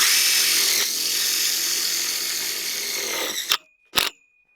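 A power drill drives a self-tapping tech screw into a strap on a high-tunnel greenhouse post, a loud continuous whir for several seconds that cuts off, followed by two brief bursts of the motor.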